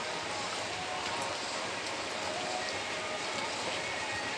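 Steady rain falls outdoors on a Sunday morning in a village where children are playing kuda lumping, making a continuous close hiss of drops with no distinct voices standing out.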